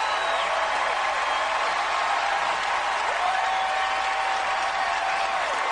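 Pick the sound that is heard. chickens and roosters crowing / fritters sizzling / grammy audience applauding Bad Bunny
grammy audience applauding Bad Bunny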